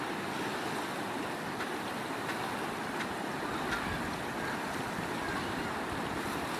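Water from the Moolamattom power station dams rushes down a channel toward the river, a loud, continuous broadband roar that holds steady throughout, with wind buffeting mixed in.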